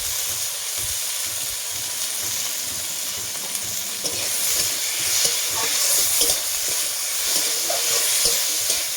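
Chopped tomatoes frying in a pan with salt, stirred through a steady close sizzle and hiss, with scraping and clattering stirs throughout, for a Bengali egg curry with potato, aubergine and tomato.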